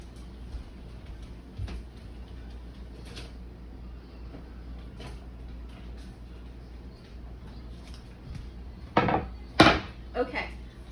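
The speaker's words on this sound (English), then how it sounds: "I'm gonna just throw them in the boiling water." Chopped potatoes are tossed into a pot of boiling water in a home kitchen: two or three loud splashing clatters near the end, after a stretch of quiet kitchen background with faint scattered clinks.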